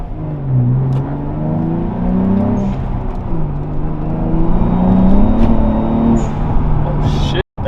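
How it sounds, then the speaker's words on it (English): A car with a new boost setup accelerates hard in its highest boost mode, its engine note climbing repeatedly through the gears, loud and close from inside the cabin, before cutting off abruptly near the end. "I'm gonna drive my car with my new setup and in the highest boost mode"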